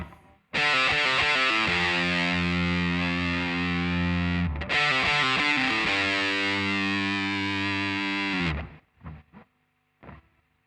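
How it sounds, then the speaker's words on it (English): Distorted electric guitar plays the pre-solo riff, two loud sustained phrases of chugging notes with a short break between them, ending in a few quieter plucks. "So I'll show you pre-solo A first, and it just sounds like this."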